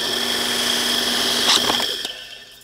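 A power drill bores holes through metal plates, transferring hole positions into an aluminum plate: a loud, steady whirring whine that cuts off abruptly near the end.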